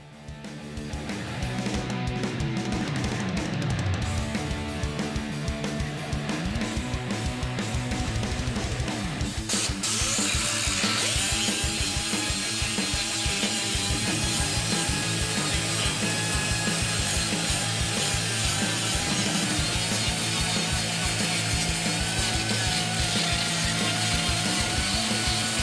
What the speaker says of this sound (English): we can chop the excess fiberglass off the panels, pop our molds out, scuff everything up really good